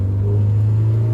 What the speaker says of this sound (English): the car feels like it's got a misfire